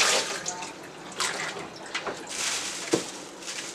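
Water running into a container for washing vegetables, a continuous splashing rush with small gurgles and a few louder splashes, close by and without voices.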